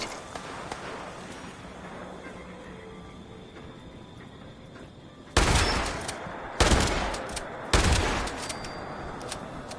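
Shotgun blasts in the video game Fallout 76, three loud booming shots spaced about a second apart, each with a ringing tail, over a steady low background hum.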